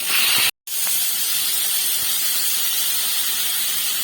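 Onion frying in hot oil with popped mustard seeds gives a steady, loud sizzling hiss that drops out briefly near the start, then continues unbroken.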